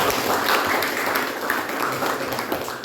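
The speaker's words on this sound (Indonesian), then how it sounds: "Kasih dulu tepuk tangan kepada Bapak." Classroom applause for a student presenter, with a room of hands clapping together in a steady, full burst that fades slightly toward the end.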